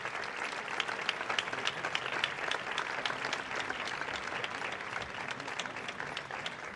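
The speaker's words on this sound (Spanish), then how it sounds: "Un fuerte aplauso para ellos." An audience at an evening gala of romance recitation and piano music in Alhama gives fairly distant, sustained applause, with many hands clapping evenly throughout and no speech.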